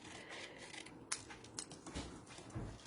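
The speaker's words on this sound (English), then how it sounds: "what we're going to do is we're going to try to cut that off" Scissors cut a piece of card stock in a quiet room, giving a few faint snips and crisp paper clicks over about three seconds, heard up close.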